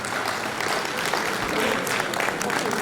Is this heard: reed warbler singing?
no